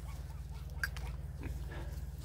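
Mini pigs on a farm give faint, short grunts and snuffles over a steady low hum in the background.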